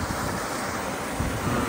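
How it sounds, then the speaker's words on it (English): Continuous rushing wash of ocean waves with heavy wind noise aboard a sailing catamaran crossing the Atlantic in bad weather, loud and steady, no voices. "The waves."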